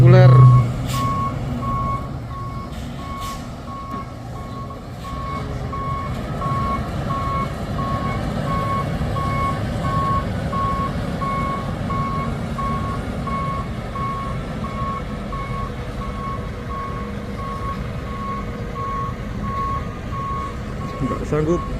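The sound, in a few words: Fuso intercooler truck reversing with reversing beeps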